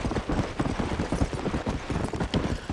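Horse hooves clip-clopping in the video game Red Dead Redemption, a steady rapid rhythm of hoofbeats at a trot or canter, close and loud, continuing evenly with a faint background wash and no talking over it.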